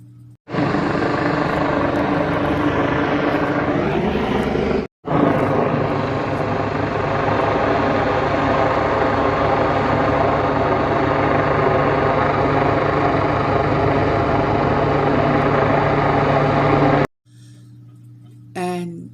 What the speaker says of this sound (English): this police helicopter is literally hovering right over her house